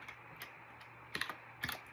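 Quiet keyboard typing, a handful of soft key clicks in short bursts, close by with no talking.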